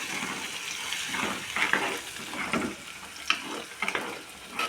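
Ground mint paste is stirred into a hot pan of frying chillies and lentils, giving a close, wet sizzle with bursts of bubbling and scraping as the mixture is moved around.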